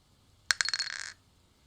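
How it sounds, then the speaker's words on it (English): Dice dropped into a shot glass: a sharp glassy clink followed by a quick run of rattling bounces that settle after about half a second, close and fairly loud in a quiet setting. "That's the sound of a dice into a shot glass."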